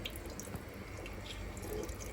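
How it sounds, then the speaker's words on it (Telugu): Water poured into a pot of Tamil Nadu-style fish curry being cooked at home, a steady close splashing and trickling stream that runs alone for about two seconds. "ఈ వాటర్ అంతా కూడా వేసేస్తున్నాడండి."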